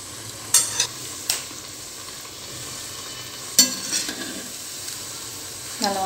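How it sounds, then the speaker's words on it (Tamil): Baby corn deep-fries in oil, a soft continuous bubbling sizzle with a few sharp metallic clinks and taps from a utensil stirring in the pan. "நல்லா பொரியட்டும்."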